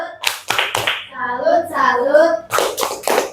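A group of children claps and chants in a rhythmic 'tepuk salut' routine. Sharp bursts of handclaps open and close a sung-spoken stretch of young voices, loud and close.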